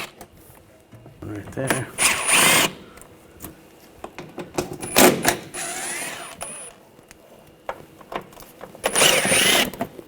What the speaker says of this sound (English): I'm just going to use a 8mm socket, take these screws out.